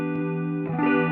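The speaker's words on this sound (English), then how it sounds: "Chorus sounds pretty cool as it is" An electric guitar chord rings through a chorus effect pedal, sustained and shimmering, then a second chord is struck and swells with a warbling, doubled texture, loud and close.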